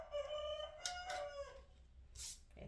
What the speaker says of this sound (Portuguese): Tem galo no vizinho.